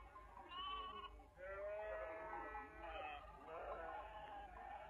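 Sheep bleat repeatedly in a sunny outdoor watering place, wavering calls rising and falling in close succession, fairly loud and near over a low steady background.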